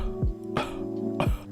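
Three soft, breathy coughs with trailing, unclipped endings, spaced evenly and heard up close in a quiet room, made while demonstrating how to blow smoke rings.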